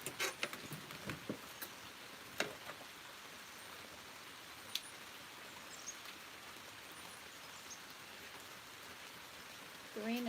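Steady rain falls outdoors during elderberry picking, a soft even hiss with scattered drip ticks; a brief voice stirs near the end.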